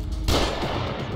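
Gunfire in the horror video game The Evil Within, a single loud, close gunshot with a sharp crack and a ringing tail.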